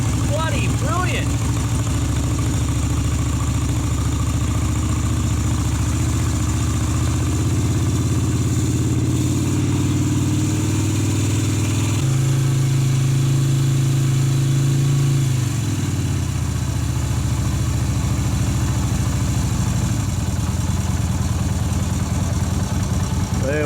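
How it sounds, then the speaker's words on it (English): A Yamaha Virago 250 motorcycle engine idling on its own after a cold start with the choke on, a steady close low rumble that swells slightly for a few seconds midway before settling back. "The old Virago's idling all by itself."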